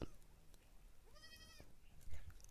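A single goat bleats briefly near a dam's water amid quiet outdoor ambience, with faint voices and some noise in the background.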